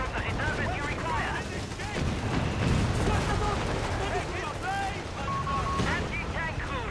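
Artillery in a war video game booms and crackles in dense, overlapping bursts, mixed with rapid gunfire, filling the scene loudly and continuously while a voice speaks faintly in the background.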